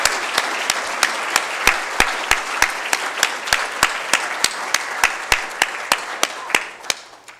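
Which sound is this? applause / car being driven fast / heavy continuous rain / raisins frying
applause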